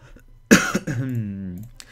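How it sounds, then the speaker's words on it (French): One sharp cough from a mildly ill person bursts out nearby, followed by a short voiced, throaty sound as it trails off. "je tousse un petit peu"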